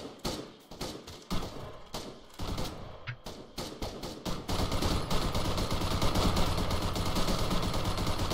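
Rapid machine gun fire from a video game: scattered bursts of shots at first, then a dense, sustained loud stream of automatic fire with no talk over it.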